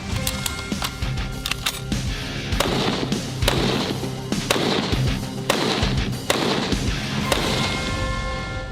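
Shots from a photo gun fired at a LEGO target, a dense run of sharp, loud cracks in quick irregular succession over a mechanical rattle, close and continuous without speech.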